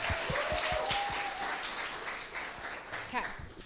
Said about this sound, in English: Can we please give him another round of applause?